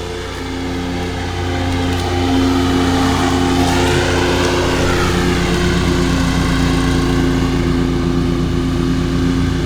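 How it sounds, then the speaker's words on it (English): Lawn mower cutting grass on a hillside, a loud continuous engine drone that swells over the first couple of seconds and then holds steady and close throughout. "The mower does handle the hillside pretty well compared to all of our other mowers that we've used."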